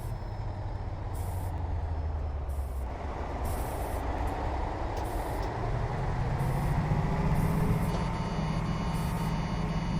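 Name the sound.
Coachbus 0303 reversing beeps in video game OMSI 2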